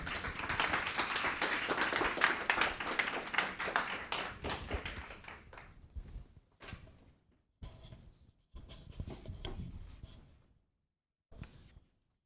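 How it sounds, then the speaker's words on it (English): Applause from a conference audience, a dense stretch of clapping that tapers off after about five seconds into sparse, isolated claps and quiet gaps. "I think that deserves applause"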